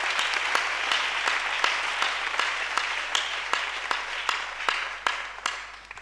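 A church congregation applauds at a Wednesday worship service, a dense, steady wash of many hands clapping close by. Sharper rhythmic claps punctuate it at a regular beat, and it thins slightly near the end.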